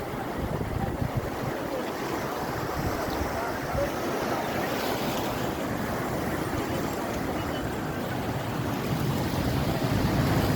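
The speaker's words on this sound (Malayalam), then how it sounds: "കണ്ടോ, തിരമാലകൾ അടിച്ചു പോയിരുന്നു" Ocean waves break along a seashore as a continuous broad roar, mixed with wind buffeting the microphone, moderately loud and steady.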